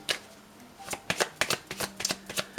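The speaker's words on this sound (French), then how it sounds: "votre message qui accompagne ce tirage de cartes avec le tarot" Persian tarot cards being shuffled for a reading, a brisk run of crisp riffling and slapping card sounds, close and clear, growing busier toward the end.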